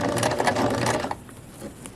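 Sewing machine stitching a zipper into a dress, a rapid steady mechanical whir of the needle for about a second, then stopping and leaving quieter faint handling noise.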